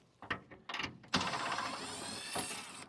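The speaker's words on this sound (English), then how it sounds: "This particular one has just two little nuts in there, so I'll remove that one." Two small nuts are unscrewed from a stainless steel T-handle lock, starting with a few close metallic clicks and taps. A steady ratcheting, whirring tool sound follows and carries on to the end, with no one speaking.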